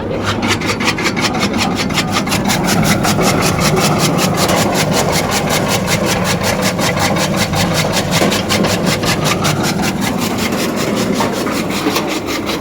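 A two-roller chaff cutter with a 3 HP motor runs loud and continuous with a fast rhythmic chopping rasp over a steady motor drone, unbroken throughout.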